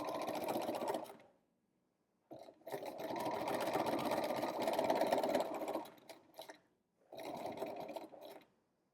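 A sewing machine stitches fabric for a scrunchie in three bursts of rapid whirring, separated by short silent pauses, moderately close with no talk.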